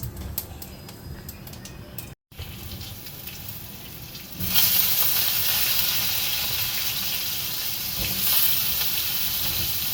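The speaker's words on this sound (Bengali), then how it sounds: "দিলে আমি এবার আলু পটলটা একটু ভেজে নেব" Cubed potato and pointed gourd hit hot oil with cumin seeds and salt, a steady sizzle that swells into a loud, continuous crackling fry, with a brief gap of silence and faint tapping near the start.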